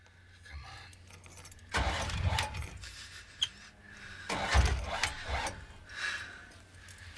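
Car engine started with a key, with keys jangling and a starter crank followed by the engine catching and running at moderate loudness amid quiet movement sounds.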